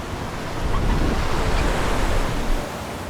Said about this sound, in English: As much as I enjoy the waves washing over Tessie's deck